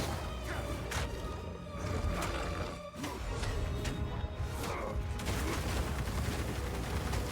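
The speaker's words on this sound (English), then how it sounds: "Oh, right, the explosions." Explosions in Path of Exile 2 burst repeatedly in dense, crackling volleys, with sharp impacts scattered over a continuous roar of combat, loud and busy throughout.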